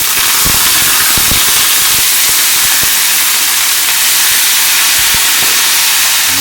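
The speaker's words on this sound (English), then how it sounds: "I'm going to put a little bit of olive oil into a pan, nice and warm, and then the leeks are going to go in" Leeks hit warm olive oil in a pan and sizzle with a loud, broad, continuous hiss, dotted with small pops and crackles, and no talk over it.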